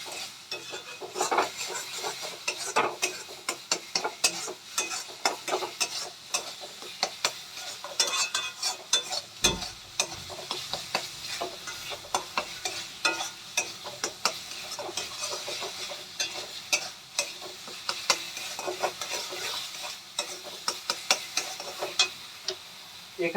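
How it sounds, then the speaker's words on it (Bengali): Coriander powder and spice masala fry in a pan for Bihari-style rui fish curry, giving a steady close sizzle with frequent scraping stirs of a spoon, and one sharp knock partway through. "মশলাটা আমি ভালো করে কষিয়ে নেব।"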